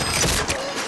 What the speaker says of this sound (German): Lade jetzt nach!